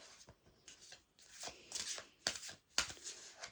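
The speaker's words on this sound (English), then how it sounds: "Let me just shuffle a few cards for you." Tarot cards shuffled by hand at close range in a series of quick riffling bursts and soft slaps, with brief pauses between, no talk.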